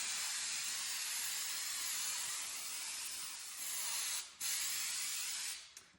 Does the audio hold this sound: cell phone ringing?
no